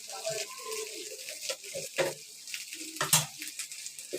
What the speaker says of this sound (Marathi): आता हे भाजून घेते बघा परतून घेतल्या आणि आता मी चांगले भाजायला देते व्यवस्थित